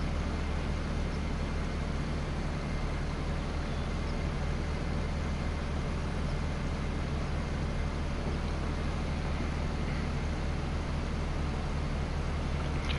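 A truck driving in the Farming Simulator 25 video game on the Riverbend Springs map, a steady, continuous engine drone with a low hum that stays level throughout, with no talk over it.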